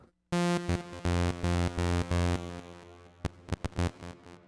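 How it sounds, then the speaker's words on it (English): Harsh buzzing VPS Avenger synthesizer oscillator tones with a fuzz effect pulse in short repeated bursts, thick with fuzzy distortion, then stuttering staccato hits trail off toward the end. "And it was that fuzz."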